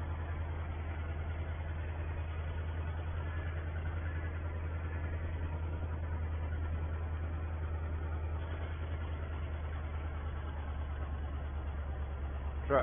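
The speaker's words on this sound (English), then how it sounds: "Tractor struggles a little on one hill, and then we'll bomb along on the next one." Farm tractor engine labouring on a hill during field work, a steady low droning rumble with constant heavy hum, continuous and moderately loud from the cab, no voices.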